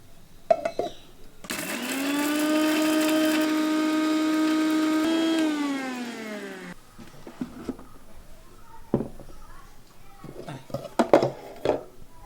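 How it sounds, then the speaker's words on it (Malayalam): Mixer grinder grinding fried ginger, onion and chilli for jackfruit-seed chutney, a loud whining motor run of several seconds that winds down, followed by clattering jar sounds. "നേരത്തെ വറുത്ത് വെച്ച ഇഞ്ചി, ഉള്ളി, മുളക് എന്നിവ ആദ്യം ഒന്ന് അരയ്ക്കാം"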